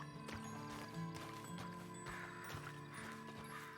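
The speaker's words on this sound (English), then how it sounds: "Then you better get on this horse." Horse hooves clip-clop in Red Dead Redemption on PC, a steady rhythmic run of hoof strikes with mechanical tack rattles over a game music bed, moderately close and without speech.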